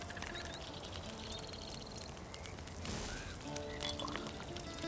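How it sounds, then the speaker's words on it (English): Water is poured into a pot in a video game, a steady close splashing pour with light bird-like chirps in the background and no voices. "Throw all that water in here"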